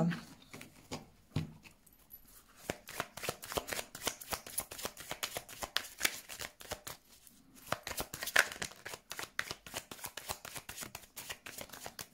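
Tarot cards shuffled by hand for a reading: a fast, dense run of crisp riffling clicks and flutters, close and fairly quiet, broken by a couple of brief pauses.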